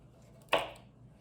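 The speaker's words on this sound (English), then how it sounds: "I'm just kind of chopping them up into like fourths" One crisp knife chop lands on a cutting board during tabbouleh preparation. It is a single sharp, fairly close thunk over a quiet background.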